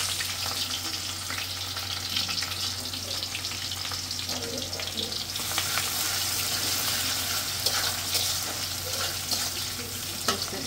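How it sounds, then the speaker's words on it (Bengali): Cumin seeds and onion frying in hot oil in a pan, a steady dense sizzle and crackle running throughout, close and fairly loud, with occasional stirring scrapes. "ফোড়নে জিরে দিয়ে দিলাম, পেঁয়াজ,"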